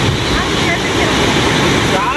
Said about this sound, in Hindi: इधर तो वाटरफॉल चालू हो गया है